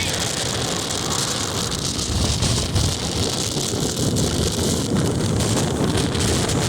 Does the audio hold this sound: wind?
yes